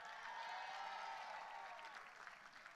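Audience applause at a ceremony honoring administrators and alumni, a steady broad wash of clapping that holds at an even level for the whole stretch and thins slightly near the end, with no voices.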